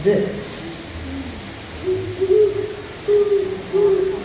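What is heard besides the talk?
great horned owl hooting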